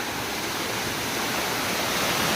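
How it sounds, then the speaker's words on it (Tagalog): Water rushes down Gabur Gabur Falls in a constant loud broadband roar, steady and unbroken throughout, with no voices. "ang lumalagaslas at umaagos na tubig pababa"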